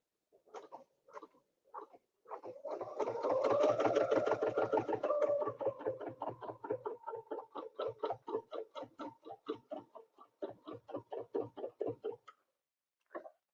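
A quilting sewing machine runs edge-to-edge stitches in a fast, steady chatter, starting with a few short bursts, then a long continuous run that slows into separate stitches before stopping.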